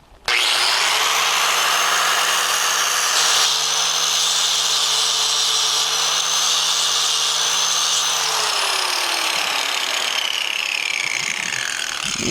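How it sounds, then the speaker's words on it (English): An angle grinder fitted with an abrasive wheel cuts a stamping off a drag race Powerglide transmission hub, giving a loud, steady, harsh high-pitched grind that runs unbroken for about twelve seconds. "I've already got the abrasive wheel on my grinder, and what we want to do is to take that stamping away"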